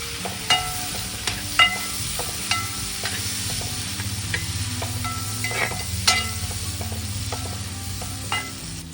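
Sliced onions and shallots fry in a pan for a Kerala-style fish molly, a steady close sizzle with repeated sharp clicks and scrapes of stirring throughout.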